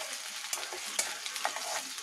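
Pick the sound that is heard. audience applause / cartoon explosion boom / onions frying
onions frying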